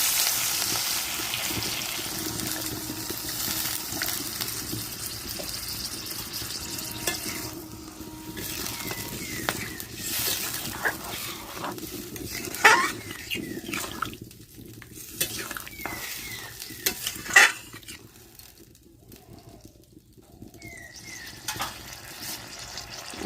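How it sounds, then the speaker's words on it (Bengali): Water poured into a pan of frying potatoes for a young jackfruit and potato curry raises a loud, steady sizzle close by. Stirring and the scrape of a utensil on the pan break through now and then, and the hiss eases toward the end. "এখন আমি জল দিয়ে দেবো।"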